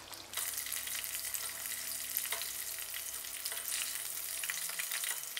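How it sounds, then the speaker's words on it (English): Corned beef taquitos deep frying in hot oil give a steady, dense crackling sizzle that holds evenly from start to finish, close up, with no voices. "We're gonna go ahead and deep fry them for approximately 2 minutes on each side."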